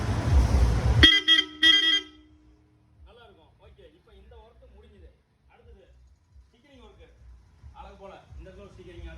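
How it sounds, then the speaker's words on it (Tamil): A loud, harsh megasonic car horn fitted to a Maruti Omni van blares in a few sharp bursts, then cuts off, leaving quiet talking afterward. "மெகாசோனிக் ஹாரன் அடிக்கிற அப்படின்னு பாருங்க."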